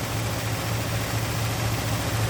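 The engine of a 1965 Chrysler 300L four-speed convertible idles steadily as oil burns off the exhaust manifolds, a loud, even low rumble with a slight rhythmic pulse that continues without a break.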